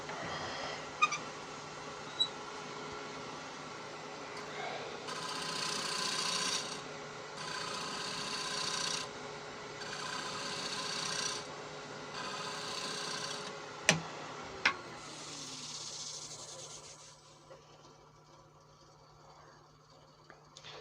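A woodturning gouge takes a full cut across a rough-turned wooden bowl on the lathe. Several sustained raspy shaving passes follow one another over a low motor hum, with a few sharp knocks between them.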